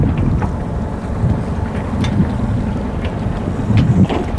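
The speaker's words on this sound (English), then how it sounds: "This is SUNLINE sailing north on the north tip of Banks Island, British Columbia, west coast" A sailboat heads north off the tip of Banks Island, British Columbia, with steady wind buffeting the microphone and water rushing along the hull, closely recorded and continuous.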